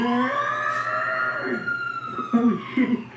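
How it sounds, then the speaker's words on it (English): A wailing alarm siren from a TV zombie drama sweeps in steady rising and falling tones, loud and near, with brief bursts of other sound breaking in toward the end. "Interesting alarm."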